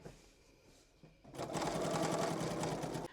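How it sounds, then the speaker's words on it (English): Sewing machine doing edge stitching with the stitch moved to the left, starting after a quiet second and then whirring steadily at close range, with no talking. "I like to have my stitch over to the left for my edge stitching."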